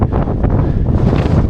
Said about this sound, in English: it's about a 40-mile-an-hour gale blowing the other side the second I get out